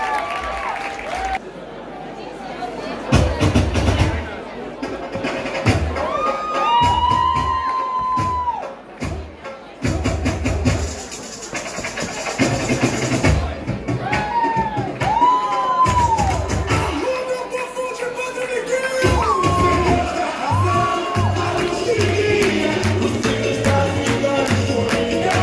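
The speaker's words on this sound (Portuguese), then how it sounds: "Uma salva de palmas." Crowd at a carnival contest for ground performers, cheering, whooping and clapping in a loud, shifting roar, with voices yelling and speech mixed in throughout.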